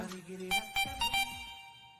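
A phone ringtone plays a short run of bright electronic beeps, repeating quickly at moderate volume.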